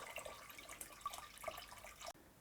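Water pours into the inner tank of an ultrasonic humidifier, a faint continuous splashing and trickling that stops abruptly near the end, with no voices.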